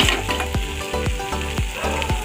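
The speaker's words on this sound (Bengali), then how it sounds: "এবার কিছুক্ষণ ভেজে নেওয়ার পরে সে আগে থেকে ভেজে রাখা চিকেনগুলো দিয়ে দিব।" Pre-fried chicken pieces go into frying masala for a masala chicken fry, bringing a steady loud sizzle broken by regular scraping strokes, about every half second.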